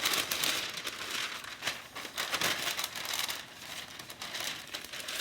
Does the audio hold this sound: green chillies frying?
no